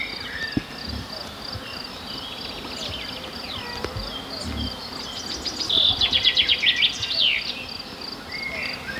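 Insect buzzing hovers near a pond in a dense forest, a thin steady drone that swells louder toward the middle, with faint crickets and a few bird chirps in the background.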